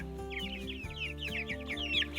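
Chickens in a backyard garden cluck and chatter in quick, overlapping bursts, fairly close but soft, over a low steady background hum.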